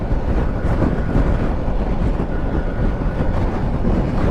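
A Ducati Desert X Rally motorcycle on the highway, heard as a dense, constant roar of wind buffeting and engine drone at speed, loud and unbroken with no talk.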